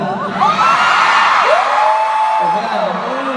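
A studio audience at a Thai television variety show screams and whoops loudly and continuously, with high shrill voices rising and falling together throughout.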